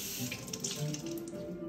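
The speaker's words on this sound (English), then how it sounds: "The water will run right off this." Water runs steadily over a handcrafted item treated with beeswax, next to a kitchen sink with dishes: a continuous close splashing and trickling stream with no talk.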